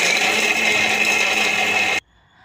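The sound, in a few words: mixer grinder grinding sliced coconut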